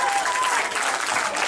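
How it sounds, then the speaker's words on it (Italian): An outdoor crowd claps and applauds steadily at a Madonna dell'Arco religious festival in Grumo Nevano. The applause is dense and continuous for the whole brief moment, with no pause. "un applauso a questa bella squadra"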